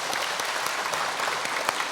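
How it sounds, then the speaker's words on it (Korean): Members of a Korean church congregation clap during Sunday daytime worship to welcome a newly registered member. The applause is a full, even roar of many hands that carries steadily for about two seconds, with no voices on top. "박수로 환영하도록 하겠습니다."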